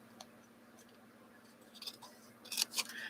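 Scissors snip through gray felt fabric for a Christmas quilt, giving a few faint, crisp cuts that cluster toward the end over a quiet room hum.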